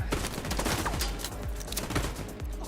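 Gunfire in The Division 2 shooter game: a dense, continuous stream of rapid shots with overlapping cracks and impacts, fairly quiet and steady throughout, no voices.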